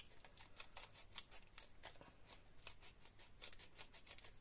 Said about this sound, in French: on va le faire au ciseau